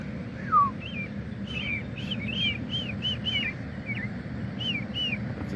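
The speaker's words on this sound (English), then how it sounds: "That's this bird right here talking to me." Bird calls and whistled chirps from a wild bird sound close, in short repeated phrases over a steady low rumble of outdoor background noise, with no talking.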